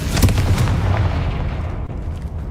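An explosive Confringo fire spell from the Hogwarts Legacy video game bursts loudly and close, a heavy booming blast that rumbles and slowly decays with no voices over it.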